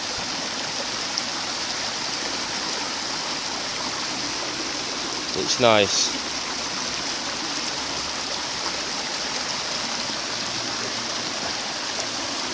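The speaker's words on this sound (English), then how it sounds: "I mean, it's not a massive waterfall." A small waterfall and stream running down from a hill into woodland give a steady, close, broadband rush of water throughout, with a brief spoken comment partway through.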